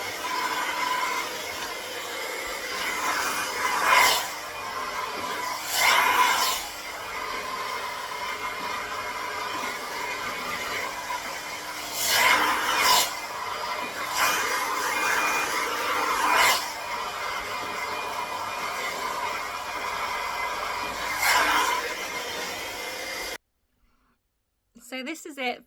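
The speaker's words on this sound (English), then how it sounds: "Still blow drying it." A hair dryer blows on hair in a steady whooshing roar, its pitch shifting as the airflow moves, with several louder surges before it cuts off near the end. A voice talks over it.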